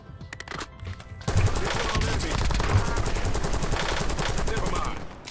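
Rapid bursts of gunfire in a first-person shooter, a dense sustained volley of automatic shots after a brief quieter lead-in, loud and close, with game effects layered around it.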